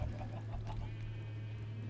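Chickens clucking in the video game Minecraft, a faint, soft scattering of short clucks over a steady low hum, heard from a minecart moving past a coop holding quite a few hens.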